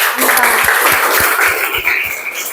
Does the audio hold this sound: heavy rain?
no